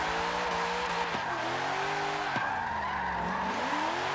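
In the racing game Forza 7, a car drifts with a steady tyre skid under a droning engine whose pitch rises and dips as the slide is held, all at moderate volume.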